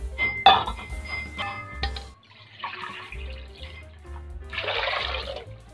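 Water splashes and gurgles into a metal pot of rice in a few bursts, with clinks of cookware between pours.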